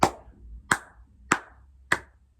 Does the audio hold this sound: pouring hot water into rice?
no